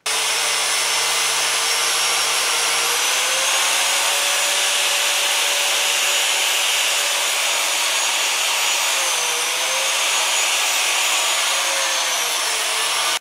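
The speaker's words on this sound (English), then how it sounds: "I'm going to go to a next larger tool, an angle grinder, and see if we can use that to cut some of this excess away" An angle grinder bites into a pressboard subfloor with a loud, continuous harsh rasp and a steady high whine that dips slightly now and then, unbroken for the whole stretch with no speech.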